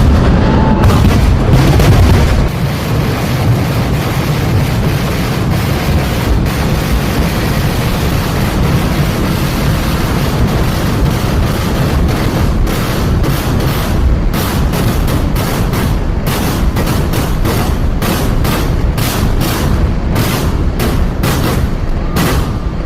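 A dense, nonstop barrage of loud festival fireworks at the Nenmara Vallangi Vela temple festival in Kerala. Heavy booms and crackling blasts pile into a continuous roar that lasts the whole stretch, with no voices.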